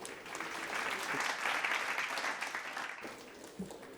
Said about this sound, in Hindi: तांको जोरदार करताली दे स्वागत करंतु